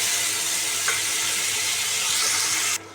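Ground tomato paste hits hot oil with leaves in the pan, producing a loud, even hiss of frying close by that continues steadily, then cuts off abruptly near the end.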